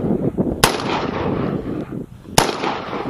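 A 6.5 Grendel rifle with an 18-inch barrel and muzzle brake fires two sharp, loud shots about two seconds apart, each cracking over a dense, noisy outdoor background.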